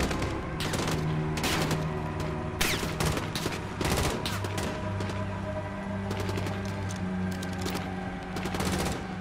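Sustained gunfire from Call of Duty: Modern Warfare (2019) campaign, The Embassy mission: dense bursts of automatic shots and booms, loud and continuous across the whole stretch over a humming game soundtrack.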